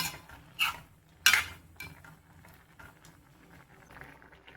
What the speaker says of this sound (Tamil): கரண்டி வச்சு லேசாக கிளறி கொடுத்துக்கலாம்